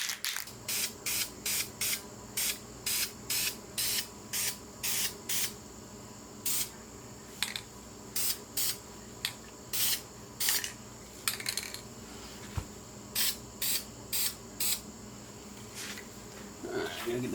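White spray paint hisses out of an aerosol can in even coats onto a Kawasaki Z900 kickstand foot, a steady run of short repeated bursts with brief pauses between them, close and fairly loud.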